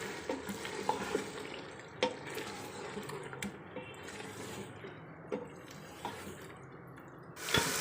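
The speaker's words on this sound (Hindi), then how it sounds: "अब इसके साथ इसको अच्छे से मिक्स कर लेंगे।" A mix of chicken, tomato and kidney beans is stirred in a cooking pot, with repeated scraping and clinking strokes of the spoon over a low sizzle and no talking.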